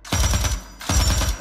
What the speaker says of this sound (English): I just got shot.